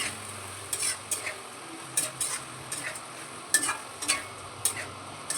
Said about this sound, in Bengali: এই দিয়ে একটু কষিয়ে নেব